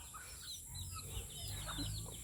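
Chickens cluck softly nearby, a few faint murmuring clucks over a steady background hum.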